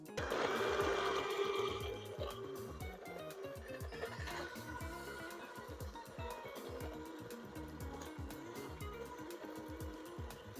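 An electric mixer runs on high speed, beating batter for gluten-free, low-sugar cherry muffins: a loud, steady motor whir with rattling beaters that stays continuous and close throughout, slightly louder at the start.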